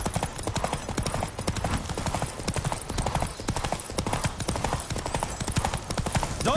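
Rapid galloping hoofbeats of a horse in The Witcher video game pound in a steady, driving rhythm, loud and close, continuing throughout.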